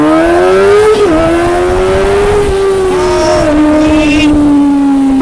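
A car engine runs loud and close with a steady droning hum that dips and rises slightly as it shifts, as though driving off, with no talking over it.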